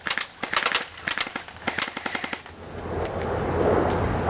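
A Crossman R76 AK-74U airsoft rifle fires a burst of BBs for about two and a half seconds, a rapid clattering string of sharp snaps, then trails into softer rustling background noise.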